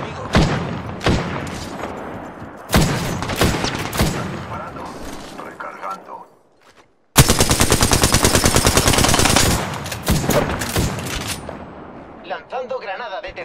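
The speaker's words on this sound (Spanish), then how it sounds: "Abriendo fuego contra el enemigo." Video game gunfire rings out as a squad opens fire on the enemy: loud bursts of rapid automatic shots, a short lull, then a long sustained volley and scattered later shots, with voices in the game mixed in.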